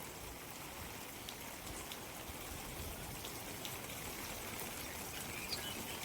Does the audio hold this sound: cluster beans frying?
no